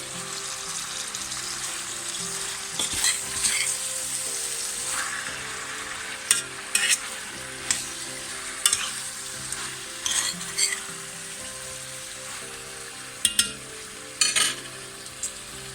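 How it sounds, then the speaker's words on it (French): Tomatoes and other food fry with a constant hiss in a pan, broken by repeated sharp scrapes and taps of a utensil as they are stirred, close and with no talking. "Je remue bien."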